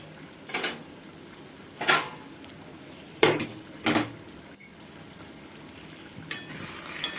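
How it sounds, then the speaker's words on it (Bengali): A lid is lifted off a cooking pot of simmering vegetables, giving several sharp metallic clinks and clatters spaced a second or two apart, close and fairly loud against a quiet kitchen background. "এবার চাপাটা খুলে দেখে নেব কত দূর হয়েছে"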